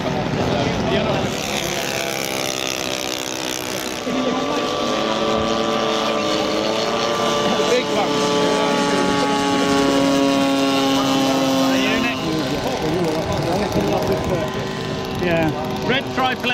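A red RC model triplane, a WW1 scout warbird, drones overhead at an RAF Cosford display, its engine note steady with shifting pitch over the whole stretch, fairly loud, with people talking intermittently beneath it.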